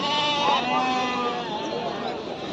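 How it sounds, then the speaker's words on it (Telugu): At a Sunday sheep market in Pileru, an injured, weak sheep gives a long, wavering bleat close by, with someone talking over it. "ఇది వచ్చేసి గొర్రె అనమాట"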